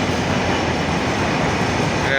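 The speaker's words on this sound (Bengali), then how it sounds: "ট্রেন চলছে।" A train runs along a railway line near Kuril Bishwa Road, a steady, close rumble and rattle of wheels that fills the short stretch without a break.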